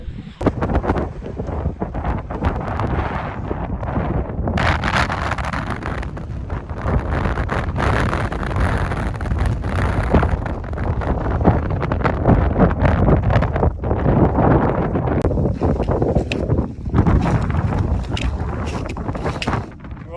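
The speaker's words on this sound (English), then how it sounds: "It's windy up there." Strong gusting wind roars over the microphone on the main Tongariro track, high on the volcano in rough weather, a loud, steady buffeting that lasts throughout, with faint rustles and footsteps beneath it.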